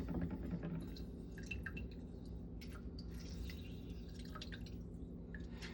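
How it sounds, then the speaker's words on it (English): Lemon half squeezed by hand into a Kingsport Long Island cocktail, giving soft wet drips and squishes that are close and fairly quiet, with a low steady background hum. "Squeeze that in. half a lemon."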